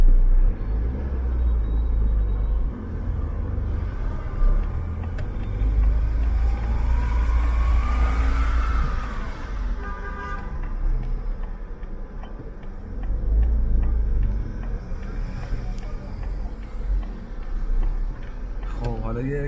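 Street traffic in Tabriz, Iran, near Arg-e-Alishah on Christmas Eve: low engine rumble of passing cars and idling vehicles, close and steady with swells as vehicles move by, a voice talking over it.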